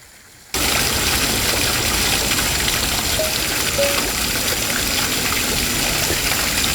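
Steady water flowing and splashing from a garden water feature at Hershey Gardens in Hershey, Pennsylvania, starting abruptly and continuing as an even, fairly close rush with no talk.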